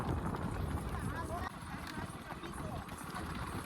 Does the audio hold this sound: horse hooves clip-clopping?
yes